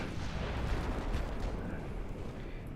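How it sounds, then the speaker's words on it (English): Torpedoes blowing up in the naval warship game Ultimate Admiral Dreadnoughts, a dense, continuous rumbling roar of explosion noise that stays loud and steady for a few seconds with no voices. "Guess you blew up the torpedoes."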